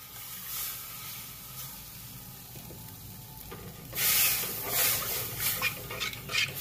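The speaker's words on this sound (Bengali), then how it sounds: "এবার আমি এই অল্প ময়দা আর অল্প কর্নফ্লাওয়ার গুলে এটার মধ্যে দিয়ে দেব।" Chicken gravy sizzles in a pan once a slurry of flour and cornflour goes in, quiet and scratchy at first, then a sudden louder burst of hissing and bubbling crackle that keeps fluttering close up.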